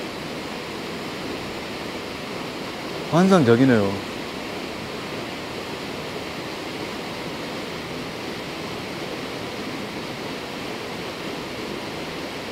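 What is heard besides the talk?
Eun waterfall on Naeyeonsan mountain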